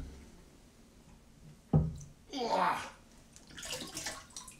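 Water sloshes and splashes in a tub as a bowling ball is hauled out, a sharp knock followed by a burst of splashing and a softer trailing slosh, close and fairly quiet.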